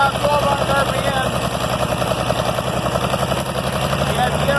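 IH Farmall 706 tractor engine running lean at about 1200 RPM with the governor sluggish, a loud, steady, close chugging idle with rhythmic firing pulses, a voice talking over it.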